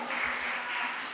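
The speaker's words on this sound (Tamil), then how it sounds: "கைத்தட்டி அல்லேலூயா சொல்லுவோமா?" A church congregation claps together in a steady, dense burst of applause that fills the whole short moment, moderately loud with no voices on top.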